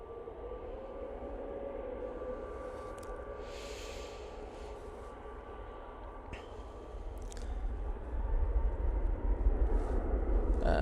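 An EasyJet airliner departing, a broad distant jet roar that swells toward the end, steady and without talk.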